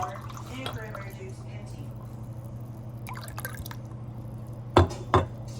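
Water and cranberry juice pour into a mixed drink made with Foster's beer, giving soft liquid trickles and drips over a steady low hum. Two sharper glassy clinks come near the end.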